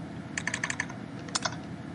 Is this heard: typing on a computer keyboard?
yes